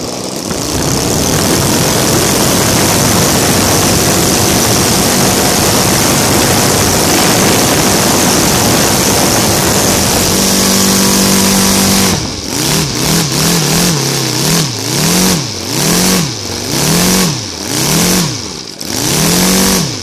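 ASP FS 400AR five-cylinder radial model engine converted to gasoline with CDI ignition, running loud and steady, then settling into a rough, pulsing idle near 800 rpm with rhythmic surging beats, close up and alone.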